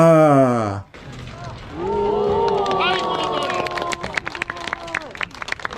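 A crowd watching an umbrella-spinning street performer in Japan breaks into cheers and scattered clapping that build over several seconds, with voices rising in excited exclamations.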